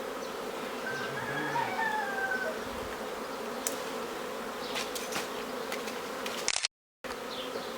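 A honeybee swarm buzzes around a hive box during swarm catching, a dense, steady droning hum of many bees close by that carries on throughout, broken only by a brief dropout near the end.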